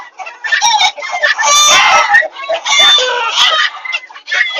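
Agitated Old English Bantam hens and a small rooster cluck and squawk loudly, with overlapping, excited calls close by.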